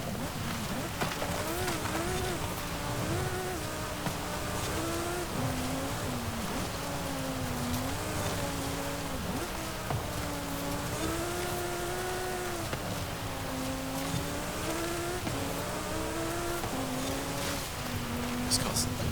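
A 2023 Lamborghini Huracán Sterrato engine drones steadily during off-road driving in Forza Horizon, its pitch rising and falling with throttle changes under continuous talk.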